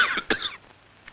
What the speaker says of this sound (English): Coughing spreads them farther.